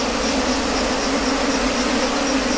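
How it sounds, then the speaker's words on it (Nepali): A large swarm of wild bees arriving at a hive makes a dense, loud, continuous buzzing hum that fills the whole stretch, close and steady with no talk. "यहाँनिर भर्खरै घार हेर्दै थियो, माउरी चाहिँ धेरै मात्रामा आइरहेछ।"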